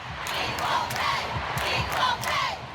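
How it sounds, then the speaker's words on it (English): Large crowd chanting for equal pay in rhythmic bursts after a World Cup win, a distant, reverberant stadium roar that rises and falls in repeated surges. "chants rose from the crowd calling for equal pay"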